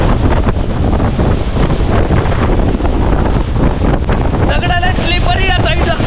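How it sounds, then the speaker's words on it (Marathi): Strong wind buffets the microphone beside the Vasundara waterfall in Bhandardara, loud and constant over rushing water, with a voice briefly heard near the end. "जोरात हवा लागते"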